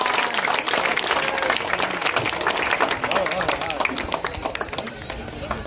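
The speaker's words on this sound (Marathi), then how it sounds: "जोरदार टाळ्या वाजवा मिथिला मॅडम यांच्यासाठी" An audience gives loud, sustained applause at a cricket tournament function in Malvan, the clapping dense and continuous throughout with crowd voices mixed in.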